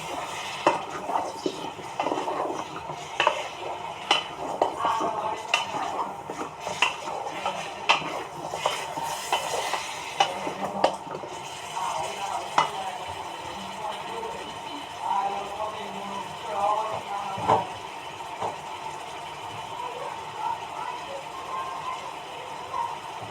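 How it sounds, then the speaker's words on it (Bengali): Vegetables stirred and sautéed in a pan, mostly heard as repeated clanks and scrapes of a spoon against metal with only a faint sizzle beneath, close by and irregular in rhythm. "এবার আমি দিয়ে দিচ্ছি সবজিগুলো। ভালো করে সবজিটা কষিয়ে নেব।"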